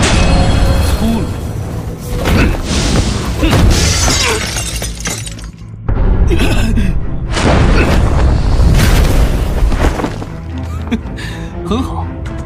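An explosive blast smashes through a defensive force field in a Chinese fantasy action drama. Two loud booming impacts, each trailing into a glassy shattering crash and a rumbling tail, with a brief lull between them.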